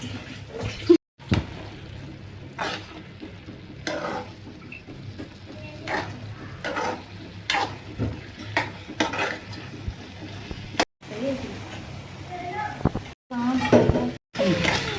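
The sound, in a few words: stirring carrot halwa in a pan on high flame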